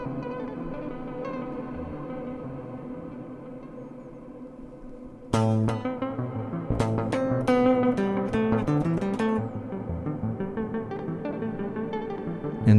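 Guitar run through a Microcosm effects pedal, a soft washy drone giving way to bright plucked notes that repeat and stack into a large, echoing ambient space, loud and continuous with no talking.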